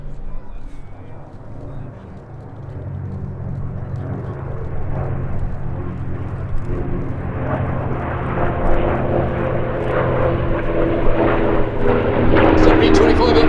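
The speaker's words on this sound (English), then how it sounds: "So B-25 up front, Mustang on the left, Corsair on the right, P-38 in the back." Four warbirds at an airshow, a B-25 bomber with a P-51 Mustang, a Corsair and a P-38, flying in formation; a broad propeller-engine roar swells gradually louder over the whole stretch, building toward a close pass.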